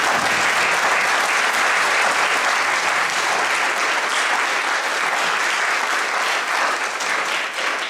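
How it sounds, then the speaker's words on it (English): Sustained applause from a sizable theatre audience after a show, steady and dense clapping that holds for the whole stretch before tapering slightly at the end. "If we could give them all a nice round of applause."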